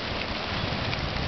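Steady rain pours down during a tropical storm on a coast, a dense, even hiss of drops that carries on without a break.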